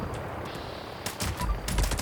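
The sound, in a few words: Two Shot Fixer rifle gunfire in the video game Fallout 76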